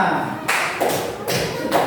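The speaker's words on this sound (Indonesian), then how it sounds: "Tepuk tangan untuk kita semua." Students in a primary school classroom clap their hands in a few loud, close bursts separated by short pauses, with voices mixed in.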